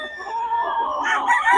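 A Sweater bloodline gamefowl rooster crows close and loud, a single drawn-out cock-a-doodle-doo over faint background noise.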